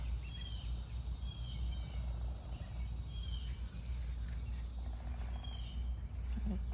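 Crickets chirp steadily in a rain-soaked garden, a faint high trill over a low ambient rumble, with occasional bird calls scattered through.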